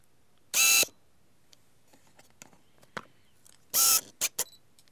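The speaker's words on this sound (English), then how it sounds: "Adding a microphone can always show you how loud the autofocus is." Autofocus motor of a Tamron 17-50mm f2.8 lens whirring in two loud, short bursts about three seconds apart, with a few quick clicks and small mechanical ticks between them and no voices.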